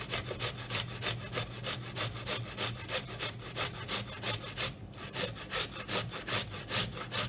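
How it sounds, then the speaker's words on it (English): Rhythmic rasping strokes of an Asian pear being grated by hand, a steady back-and-forth scraping repeated about three times a second, close and fairly quiet with no talk. "So with our pear, we want to grate it."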